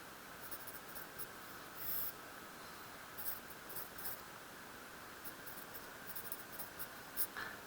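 Pen or pencil writing out a calculation by hand, faint scratchy strokes and small taps scattered over a steady hiss of background noise, close and quiet with no voices.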